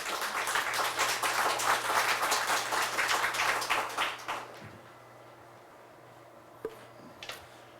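Audience applause greets a speaker introduced at a bio-defense strategy seminar, steady dense clapping for about four seconds that tapers off, followed by near silence with a few faint knocks.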